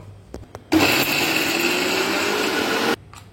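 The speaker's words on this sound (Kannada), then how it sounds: "ಈಗ ಮಿಕ್ಸಿ ಮಾಡ್ಕೋಬೇಕು. ನುಣ್ಣಗೆ ಮಿಕ್ಸಿ ಮಾಡಬೇಕು." A mixer grinder runs close by, blending wood apple pieces with a little water in a loud, steady whir for about two seconds, with a few small clicks before it starts and after it stops.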